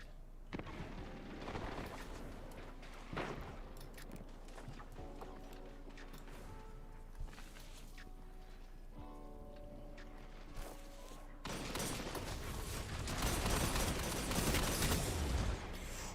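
Hand cannon fire in a multiplayer shooter game with zone captures: dense, loud bursts of shots repeat throughout and grow into a heavier barrage near the end.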